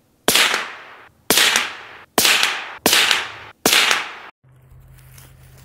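A rifle fires CCI Uppercut ammunition, five sharp loud cracks about a second apart, each with a short decaying echo, followed by a low hum, with no talking.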